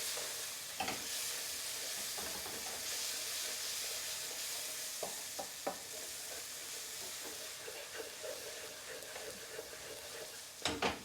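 Garam masala stirred into spices frying in oil for an Indian-style oxtail curry, a steady close sizzle and hiss with a few soft scraping stirs.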